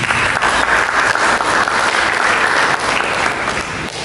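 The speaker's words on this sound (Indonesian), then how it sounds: "Mari kita beri tepuk tangan bagi Yesus." A church congregation at an Indonesian sermon service applauds for Jesus, loud dense clapping close by that continues strongly and tapers slightly toward the end.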